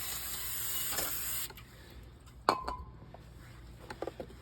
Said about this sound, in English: Brake clean.